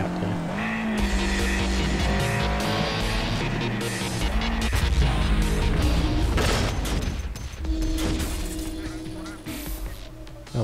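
Race car engines from the video game Need for Speed Shift on Xbox 360, shifting through gears and rising and falling continuously, with tire squeal and bursts of impact noise, loud and steady for the whole stretch.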